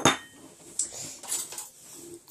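A small bowl is set down in a kitchen while gathering brownie ingredients, giving a sharp clink at the start followed by a few lighter dish and utensil taps, close and fairly quiet, with no talking.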